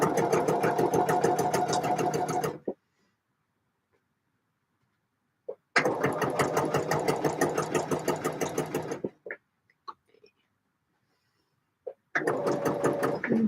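A sewing machine stitches princess seams on a jacket in three bursts of fast, even needle clatter, close and clear, separated by quiet pauses with small clicks as the fabric is adjusted.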